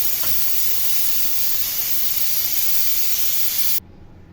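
Steam hisses loudly and steadily as a pressure cooker of chana and mash dal is opened, a continuous broadband rush that cuts off abruptly at the end, with no voices.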